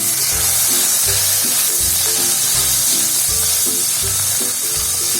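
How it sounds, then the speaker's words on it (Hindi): Garlic, ginger and green chillies sizzle steadily in hot oil, a loud, close, continuous frying hiss with soft rhythmic stirring thumps underneath and no talking. "इसको हल्का सा फ्राई करना है।"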